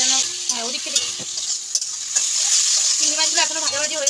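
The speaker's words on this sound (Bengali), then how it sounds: "তো এক এক করে সব চিংড়িগুলো দিয়ে দেবো একসাথেই, ভেজে নেবো।" Prawns fry in a hot wok with a steady, fairly close sizzle and crackle, with stirring scrapes and a few brief murmurs of speech over it.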